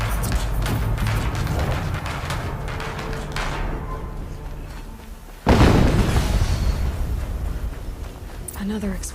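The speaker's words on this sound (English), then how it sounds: "Another explosion." An explosion in Horizon Zero Dawn bursts midway through steady game ambience, one heavy booming blast that rings out and decays gradually, with a faint higher sound near the end.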